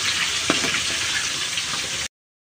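Chicken pieces deep-frying in a pan of boiling cooking oil, a loud, steady bubbling sizzle with a few small pops, cutting off abruptly after about two seconds.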